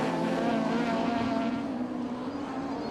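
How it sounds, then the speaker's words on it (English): A Lotus Exige rallycross car races at Lydden Hill, its engine a loud, sustained high-pitched drone that holds steady with a slight falling pitch as it passes. "The Lotus Exceed blasting its way now with the back skipping into the air back towards tarmac."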